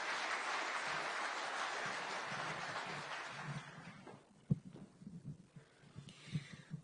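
An audience claps for US Ambassador Meg Whitman at a Kenyan call centre launch event, a broad wash of applause that fades after a few seconds into scattered claps and room noise.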